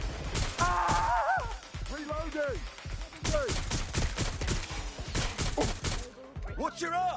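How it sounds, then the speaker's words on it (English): Sharp, rapid gunshots pop in a Watch Dogs: Legion firefight, a close, repeated volley of cracks mixed with voices speaking over the shooting. "Someone's shooting."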